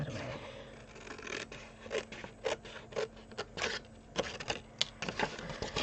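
Scissors cut through a paper gift box for hand cream in a series of close, crisp snips and scrapes, irregular in rhythm, with no talking.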